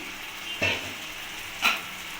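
Chopped tomatoes drop into spiced mutton masala frying in a wok, raising two sharp bursts of sizzle over a steady, hissing fry.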